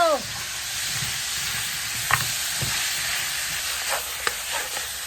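Garlic, onion, ginger and meat sizzle steadily in a hot pan, a constant loud frying hiss with a few soft scrapes and clinks of stirring near the close.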